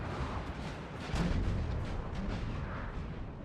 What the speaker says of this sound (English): the French have brought the artillery to defend these positions